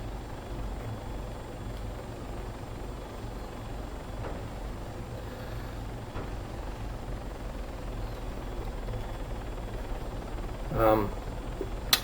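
A helicopter flies in the video game Arma 3, its rotor and engine giving a steady, even drone throughout, with a brief louder swell near the end.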